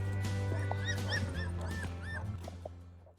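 Puppies whimper and yip in a series of short, high whines, close by over a steady low hum, with no talking.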